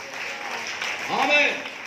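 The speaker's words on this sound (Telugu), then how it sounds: "గట్టిగా చప్పట్లు కూడా దేవుడికి స్తోత్రం" A church congregation at a Sunday worship service claps, a dense, steady patter of many hands. A voice speaks over the clapping.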